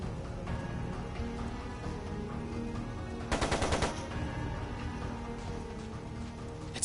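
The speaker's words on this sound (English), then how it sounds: "It sounded like a machine gun." Machine gun fire in the video game Trails of Cold Steel II: a short, rapid burst of shots in the middle, heard over steady background game music and ambience.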